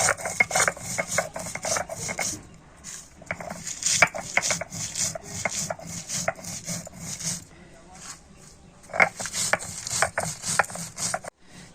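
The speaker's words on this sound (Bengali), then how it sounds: "মশলাগুলোকে আমি শিলনোড়াতে গুঁড়ো করে নিচ্ছি" Dry spices and red chilies are ground by hand on a flat shil-nora grinding stone, with rhythmic rasping strokes of the stone roller that come in repeated bursts, close and fairly loud.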